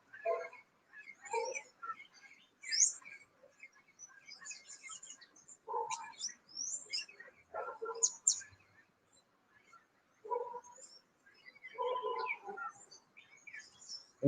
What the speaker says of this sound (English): Mucho loros, lots of parrots.